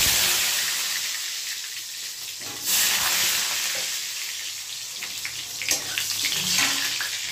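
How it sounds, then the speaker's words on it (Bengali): Potatoes frying in mustard oil in a pan give a steady, close sizzle with occasional stirring scrapes and brief louder bursts. "আলুটাকে ভেজে নেব।"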